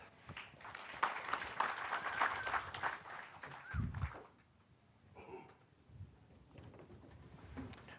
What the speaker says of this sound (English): So please, a round of applause for Dan.